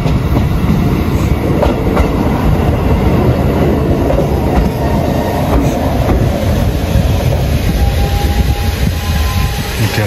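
A two-car train rolls into a quiet rural station in Japan, a steady loud rumble of wheels on rail with faint rhythmic clicks throughout and a thin squeal near the end, no voices.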